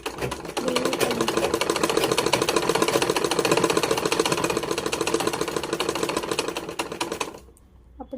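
A sewing machine runs a reverse stitch along a straight line on fabric, a steady rapid mechanical clatter lasting about seven seconds at close range before it stops.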